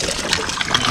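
Water gushes from a hand pump at a riverside campsite in a brief, loud, steady rushing splash.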